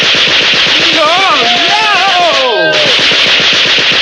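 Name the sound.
Gatling gun firing repeatedly in a cartoon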